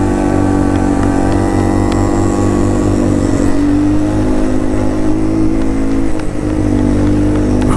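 A motorcycle engine revs loud and close during a ride near Kathmandu, a continuous droning roar that rises and falls slightly with the throttle.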